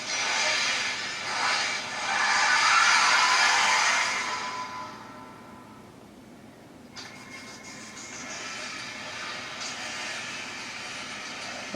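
Engine roar and whooshing from Real Racing 2, a mobile racing game, with a VW GTI among the cars, played on a Motorola Atrix HD: loud at first, dipping near the middle, then a steadier hum.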